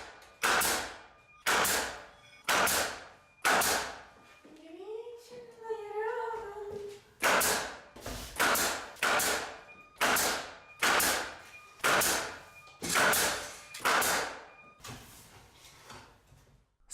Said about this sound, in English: slowly fastening before nailing for final clean look